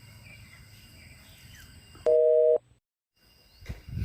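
A single short electronic phone tone sounds while calling a Samsung phone: a steady, loud beep of about half a second, followed by silence and then faint noise.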